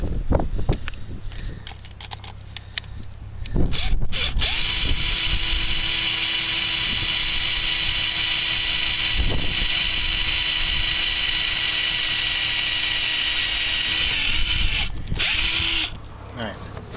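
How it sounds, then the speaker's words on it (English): A power drill boring a hole in a kayak hull to fit a flush-mount rod holder whines steadily for a long stretch, starting and stopping with brief pauses, close up and loud. "Now you've got to bring the drill round so that it starts on the edge of the oval"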